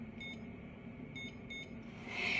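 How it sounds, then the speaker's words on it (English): Two short, faint electronic beeps in quick succession from a KaVo DIAGNOdent pen during calibration, over a steady background hum, followed shortly by a third similar beep. "squeeze and hold the DIAGNOdent until you hear that double beep"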